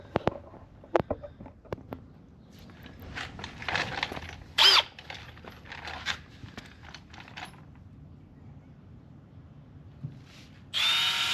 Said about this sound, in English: we're going to take the 7/32 drill bit, and we're going to drill out all of these holes